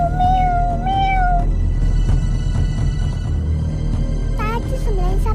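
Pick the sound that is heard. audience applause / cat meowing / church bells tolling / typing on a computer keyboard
cat meowing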